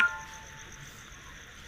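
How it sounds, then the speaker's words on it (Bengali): Crickets chirp steadily at night in a quiet, isolated open field, a faint continuous high trill with no talking. "ঝিঝি পোকা ডাকছে"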